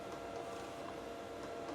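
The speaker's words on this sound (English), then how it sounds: "That printer is printing just like it was when I just turned it on." An Epson 8550 DTF printer with redesigned parts runs continuously, a faint steady mechanical whir with soft repeating carriage movement and a small fan.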